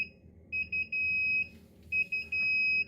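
An Inkbird Wi-Fi temperature controller's alarm beeps in two bursts of rapid high-pitched tones, each a quick stutter of beeps followed by a longer steady tone, loud and close.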